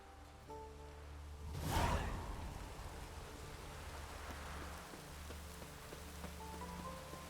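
Steady rain falls in The Witcher 3: Wild Hunt GOTY Edition, a constant wash of drops on surfaces with a brief swelling whoosh near the start and a low ambient game hum underneath.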